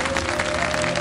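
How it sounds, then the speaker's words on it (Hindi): Studio audience applause on a Ramadan 2024 television talk show, a steady broadband wash of clapping sustained evenly for about a second with no gaps, a faint tonal hum running beneath it. "बहुत सारी दुआओं और बहुत सारी तालियों के साथ ब्रेक पे जाएंगे।"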